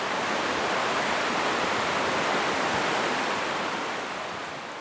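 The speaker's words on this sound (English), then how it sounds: "the highway noise fades into the sound of Short Sand Creek rushing toward the ocean" Short Sand Creek rushes toward the ocean beside a forest trail, a broad, steady wash of running water that stays loud throughout, easing slightly at the end.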